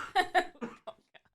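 A sick man coughs in a quick series of harsh bursts that fade into smaller hacks, close up and alone during a podcast recording.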